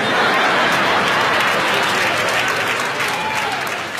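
At a stand-up comedy show, a large audience bursts into loud, dense applause that holds strong throughout and eases only slightly near the end.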